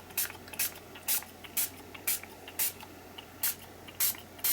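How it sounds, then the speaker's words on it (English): Water spritzed from a spray bottle held at a height onto watercolour cardstock, about ten short, crisp hissing bursts in a steady rhythm, close and fairly quiet. "So I'm going to spritz from a little bit of a height,"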